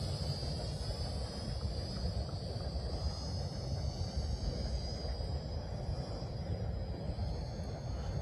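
A Hubsan H502s quadcopter drone flies forward outdoors in wind, a steady high-pitched motor and propeller whine holding constant throughout, with no talking.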